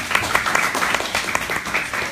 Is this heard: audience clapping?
yes